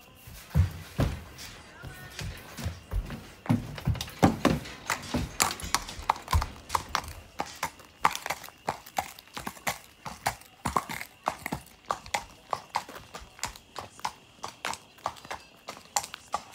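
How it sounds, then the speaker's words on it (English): Horses' hooves clopping as they are unloaded from a trailer at a new home, a run of close, irregular hard thuds and knocks that grow denser and more rhythmic toward the end. "now we are going to pull the horses off the trailer and see how they like their new home"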